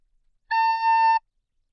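A single held A on a recorder, a soft breathy flute tone lasting under a second with a slight dip midway, alone between quiet gaps.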